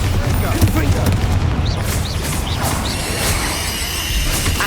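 Bombarda and Confringo spell explosions blast in Hogwarts Legacy, a dense, loud wash of booms and crackling impacts with whooshing bursts, continuous throughout under game action.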